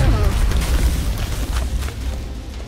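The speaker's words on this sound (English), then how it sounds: "Grenade, incoming grenade." Grenade blast in the turn-based strategy game XCOM Long War, a deep rumbling boom with debris crackle that fills the moment and slowly decays, loud and close.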